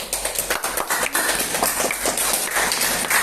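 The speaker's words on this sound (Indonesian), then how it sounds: "kita berikan tepuk tangan" A classroom group claps together, a dense, fairly loud patter of many hands filling the room, with irregular louder bursts and no talking.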